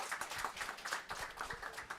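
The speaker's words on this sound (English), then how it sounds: "also big applause for Barry for today." A crowd claps steadily at a tech meetup, a dense patter of many hands at moderate distance, with no voices standing out.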